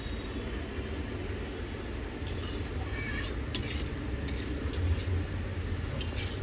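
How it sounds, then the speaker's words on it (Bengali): Garam masala of cinnamon, cardamom and cloves tempers in hot oil, a steady faint sizzle with light clinks and stirring taps of a utensil against the pan. "ফোড়ন দিচ্ছি গরম মশলা, যেটার মধ্যে আছে দারচিনি, এলাচ আর লং"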